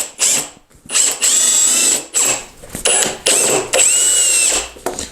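A power drill drives 2.5-inch self-tapping exterior screws into raised garden bed boards in four whining bursts, each rising in pitch as the screw seats, separated by brief pauses and close to the listener.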